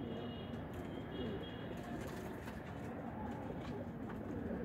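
Pigeons in a loft making a continuous low murmur of cooing, steady and fairly faint, with a dense bed of overlapping calls and no talk.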